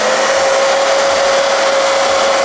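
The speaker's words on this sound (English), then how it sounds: "But let me blow dry this to make sure it stays." A hair dryer blowing steadily on a lace frontal wig, a loud, constant rushing whoosh with a fixed whine, close and alone.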